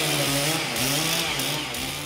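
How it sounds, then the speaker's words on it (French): A chainsaw cuts through wood logs in the forest, its engine roaring loud and close with a steady drone that briefly dips and surges as it bites into the timber. "Le bois, ça se tronçonne, ça se débite, ça se fend, ça se scie"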